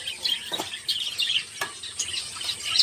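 Budgerigars in an indoor bird room give faint, scattered high chirps and tweets over a quiet background, with a few brief sharp clicks.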